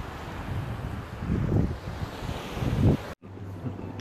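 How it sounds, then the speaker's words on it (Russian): Sea waves and wind on the beach at Pesaro, Italy: a rushing surf wash with gusts buffeting the microphone, swelling twice to louder surges before a brief cut, then continuing close and fairly loud. "И волны прям суперские."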